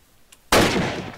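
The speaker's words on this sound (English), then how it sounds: "I can test these Enfields on cubes. Left click, shoot." A single loud, sharp Enfield rifle shot from a Minecraft WW2 gun mod, with a sudden blast and a decaying tail, heard alone after a brief quiet moment.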